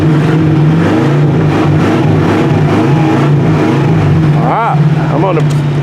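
A Chrysler Firepower engine turning over and catching in bitter cold, then idling rough with a low, pulsing drone and a few sharp revs near the end, loud and close while people talk nearby.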